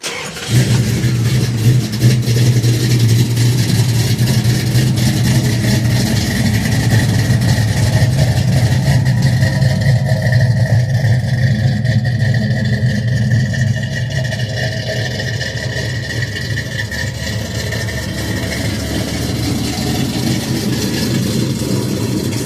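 A 1971 Dodge Demon with a 340 V8, tuned several notches above stock, idles with a steady, deep, loud rumble that holds evenly throughout and eases off slightly near the end.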